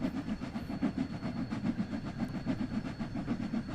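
A steam locomotive runs on the Horseshoe Curve in Train Sim World 2, giving a steady, rhythmic chugging and rolling clatter at moderate volume, with no voices.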